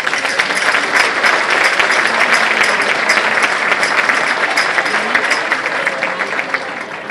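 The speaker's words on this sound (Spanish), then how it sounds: "se merece, yo creo, un fuerte aplauso." Audience applause at an Águedas festival gathering in Torrecilla de la Orden: dense, steady clapping from a sizable crowd that holds strong for about seven seconds before easing slightly at the end.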